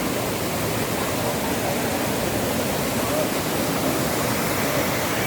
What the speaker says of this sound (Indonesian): deras arusnya.